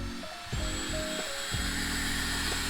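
A power drill drives screws into the body of a built-in drawer under stairs, the motor whining close and loud in short rising bursts as the pitch climbs and drops with each screw.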